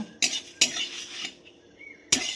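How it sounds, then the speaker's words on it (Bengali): Dry spices (coriander seed, fenugreek, dried red chili and fennel) being dry roasted in a pan: four sharp metallic scrapes and clinks of a utensil against the pan, with quiet rustling between. "এর জন্য আমি এগুলোকে একটু ড্রাই রোস্ট করে নিচ্ছি।"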